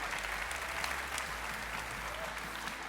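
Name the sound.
applause for cosplay contestants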